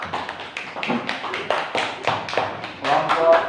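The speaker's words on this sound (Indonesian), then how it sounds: "Tepuk tangan untuk kelompok" A small group in a classroom claps for a student team, a sparse, uneven patter of hand claps close by, with voices mixed in.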